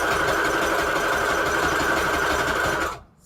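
A sewing machine runs steadily at high speed, stitching green thread through a paper pocket for a Christmas book-page junk journal, a close, continuous whirring buzz that stops abruptly at the end.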